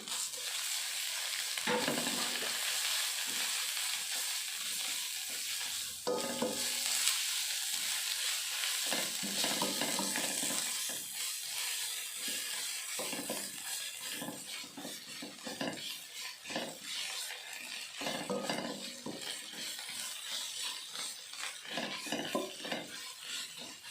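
Cumin, ground pepper and ground coriander sizzling in oil for Surabaya beef rawon, with steady frying hiss and frequent metal utensil stirring and scraping against the pan throughout, close and fairly quiet.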